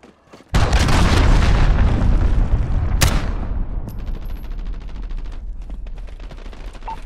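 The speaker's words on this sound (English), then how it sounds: "Allied cruise missile launched." A cruise missile strike in Call of Duty Modern Warfare lands with a sudden loud, close boom. Crackling gunfire and a rumbling aftermath follow, and a second sharp blast hits about two and a half seconds later.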